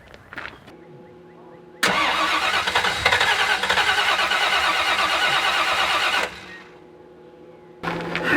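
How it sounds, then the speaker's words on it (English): A 1979 Chevrolet Camaro's engine cranks loudly and steadily for several seconds without catching, with quieter mechanical clicks before and a brief restart attempt at the end. "This thing does not want to turn over."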